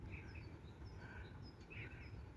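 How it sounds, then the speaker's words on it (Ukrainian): Faint birdsong carries outdoors in the Netherlands among bushes and masses of blooming daffodils, with small scattered chirps over a soft steady background hiss. "Пташки співають, квіточки."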